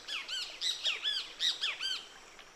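Birds along the Huatulco River give a quick series of about eight harsh, squawking calls, loud and close, each a short arched burst repeating in an uneven rhythm against a quiet background.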